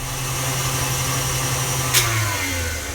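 An electric mixer creams butter and sugar for banana bread, a steady close motor whir that holds an even pitch throughout, with one brief higher scrape near the end.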